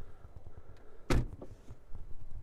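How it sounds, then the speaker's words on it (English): McLaren 720S Spider door being pulled down: one sharp, solid thunk from the closing door, with quiet rustling and soft cabin noise around it. "I'll pull the door down."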